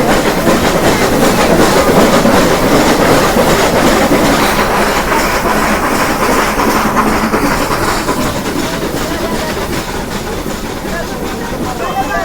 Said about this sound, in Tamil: இங்கேயும் ட்ரெயின் இப்படி போய்கிட்டு இருக்கு